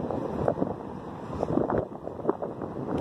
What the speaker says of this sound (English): Little wind, little brisk, walk up the street.